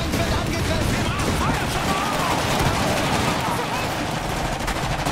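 Sustained heavy gunfire in the strategy game Iron Harvest, a dense, unbroken barrage of overlapping shots and blasts, with voices talking over the noise.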